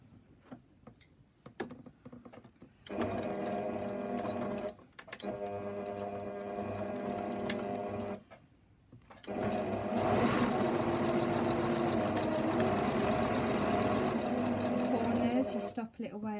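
A sewing machine stitches around the edge of a fabric reading cushion in steady, fast mechanical runs, stopping and starting several times, with a few quiet pauses between bursts.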